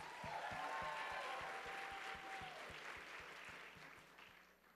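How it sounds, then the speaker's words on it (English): Audience applause fills a pageant hall, dense clapping that starts strong and gradually thins out, with faint background music and a low rhythmic beat underneath. "Let's give her another round of applause."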